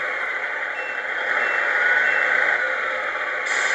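A small speaker in a Tamiya 1/14 King Hauler model truck's sound module plays an electronic truck engine sound with wheels still, a steady buzzy rumble with some thin tonal beeping, loud and continuous.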